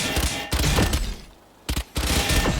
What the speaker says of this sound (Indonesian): Enak ya nembaknya ya, ada musuh.